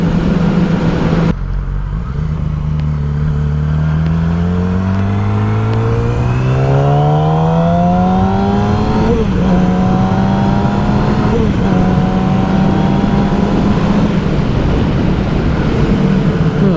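A 2007 Yamaha R6 sport motorcycle fitted with a Power Commander 5 being ridden hard, its engine note climbing repeatedly through the gears with brief dips at each shift, loud and close over constant wind rush.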